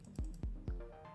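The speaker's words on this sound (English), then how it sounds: "if I press rapidly 3 times the mouse click" Three quick, sharp mouse clicks in an even rhythm, close to the microphone, triggering an attack combo in a Unity game, followed by a faint electronic tone.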